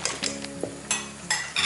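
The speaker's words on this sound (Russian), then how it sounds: "Поэтому пришлось выходить из ситуации и замешивать вилкой." Dough mixed by hand with a fork in a bowl: quick rhythmic scraping strokes and light clinks of metal against the bowl, close and alone.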